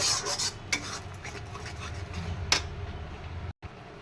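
Spoon scraping and rasping around a pan of prawn curry masala with nuts, a continuous close scratchy stirring with a few sharper clinks against the metal.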